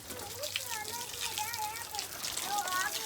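Water flows and splashes across a house rooftop, a soft steady sloshing rush. A voice and some children's chatter are heard over it.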